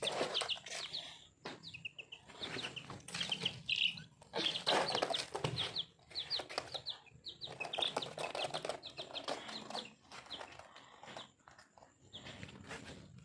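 Chicks chirp in quick, high, overlapping peeps close by, with rustling and scuffing between bursts.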